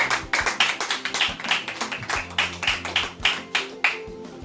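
A church congregation claps hard in acclamation, sharp irregular hand claps over a rhythmic backing of music, dense and fairly close, with no voices on top.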